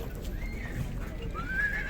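A foal of the Altai breed at a livestock market in Sokuluk, Chuy, gives two faint, distant high whinnies over low background rumble.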